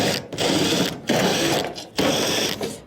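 A power driver spinning out 1/4-inch screws from a dryer panel, three loud whirring bursts in a row, each a couple of seconds long with short pauses between, close by.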